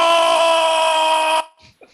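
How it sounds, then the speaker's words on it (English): A man screams from the depth of his soul in a wrestling film scene: one loud, sustained, strained cry with a steady, harmonic-rich pitch for about a second and a half that then cuts off abruptly, followed by faint noise. "Ripper rears back and screams from the depth of his soul."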